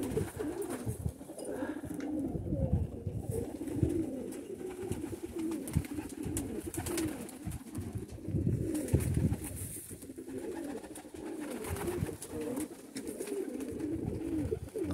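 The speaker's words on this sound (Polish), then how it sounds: "To jest naprawdę porządny gołąb" Pigeons coo softly in repeated low, throaty phrases against a faint background of shuffling and rustle, with no voices.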